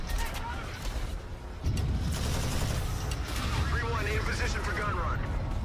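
Sustained air-strike gun run from the Call of Duty Infinite Warfare campaign, a dense roar of rapid gunfire and rumbling impacts that swells after a moment and holds steady and loud, with a voice talking over it.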